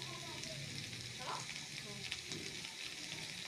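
Spices for a katla fish curry with potato and potol sizzle steadily in a pan while being stirred. The frying hiss is continuous and close, with soft scraping of the stirring and no clear talk.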